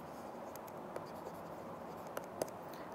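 Quiet pen or chalk writing of a math proof, soft continuous scratching with a few sharper taps, faint and alone without any speech.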